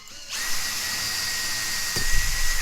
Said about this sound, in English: if you just quickly drill in like this, the drill can sometimes try and run away from you